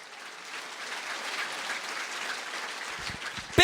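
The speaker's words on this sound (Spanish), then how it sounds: "Fuerte aplausos a Cristo." A church congregation applauds for Christ, a soft, steady wash of clapping heard at a moderate distance that holds evenly before a few louder, closer thumps at the very end.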